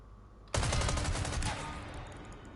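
Rapid video game gunfire erupts suddenly and loud after a brief quiet start, a dense burst of shots that carries on steadily to the end.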